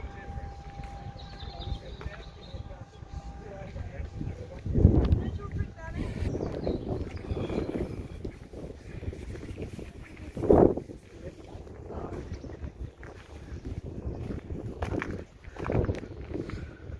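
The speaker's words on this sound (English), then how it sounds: "Very windy." Strong gusts on a Norfolk railway platform buffet the microphone in heavy, irregular low-pitched rushes, a few louder blasts standing out over a constant windy roar.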